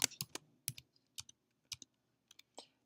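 A name being typed on a computer keyboard, loud close clicks in short uneven bursts separated by brief pauses, with no talking.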